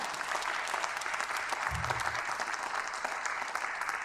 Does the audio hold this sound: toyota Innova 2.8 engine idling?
no